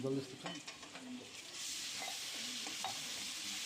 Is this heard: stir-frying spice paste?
yes